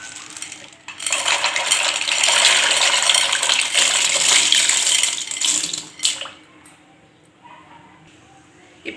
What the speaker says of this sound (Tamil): இப்போ நம்ம எடுத்து வச்சிருக்க பாஸ்தாவை இது கூட சேர்த்துக்கலாங்க.